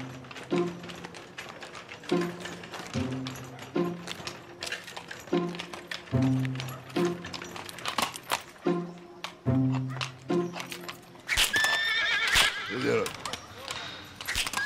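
A horse in a period television drama, with repeated short tonal calls and tapping that suggest hooves. A loud, sustained whinny breaks out near the end over a busy background.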